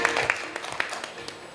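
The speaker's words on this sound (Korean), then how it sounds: "여러분 따뜻한 박수로 맞이해 주시기 바랍니다." A forum audience in Korea applauds to welcome a guest lecturer, with scattered, uneven claps standing out over a thin background of clapping that tapers off quickly.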